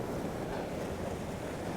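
Ocean water spraying over the rocks into a small bay at Canal Rocks near Margaret River makes a constant roaring wash of surf, heavy with wind buffeting the microphone.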